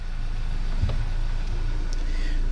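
Hyundai Sonata shifted into gear and moving, a low steady engine hum close by with a faint clunk near the start, no talking.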